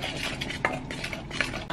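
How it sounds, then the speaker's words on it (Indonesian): A spoon stirring milk, vanilla extract and other ingredients in a bowl for a chocolate cinnamon roll dough, repeated scraping swirls with light clinks against the bowl, close and clear. "Kita aduk-aduk."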